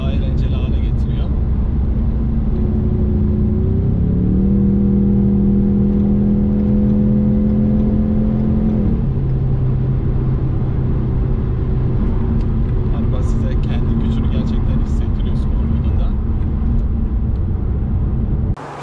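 A Ford Mustang EcoBoost with a 315 hp engine drives in sport mode, its engine droning loud and steady from inside the cabin and rising in pitch partway through, while someone talks over it.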